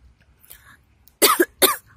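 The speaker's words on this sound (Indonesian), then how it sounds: "Maaf suara batuk saya, aku kesel." A person coughs twice in quick succession, close and loud, following a quiet stretch with faint background noise.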